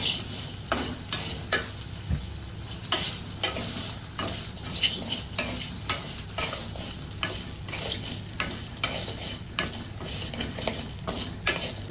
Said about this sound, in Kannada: ತೆಂಗಿನ ತಿರಿ ಕೂಡ ಹಾಕ್ತಿದ್ದೇನೆ ಮಸಾಲ ಫ್ರೈ ಆಗ್ತದಂತ